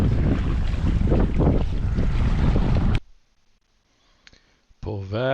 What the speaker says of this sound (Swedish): Ja, vi ska åka båt.